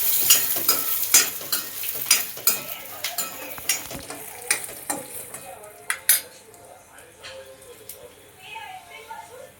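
Coriander seeds dry-roast in a pan for a Veg Kolhapuri masala, with a soft sizzle under repeated scraping and clinking strokes of a spoon against the metal, close and rhythmic, easing off toward the end.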